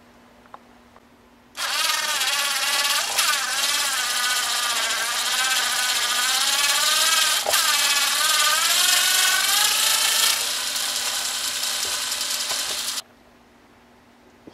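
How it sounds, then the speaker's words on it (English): Four neck screws being loosened on the back of a 1951 Fender Precision Bass reissue with a power driver, one steady whirring run lasting about eleven seconds, close and loud, with no talk. "So we got to loosen the four screws on the back of the guitar to get the neck off."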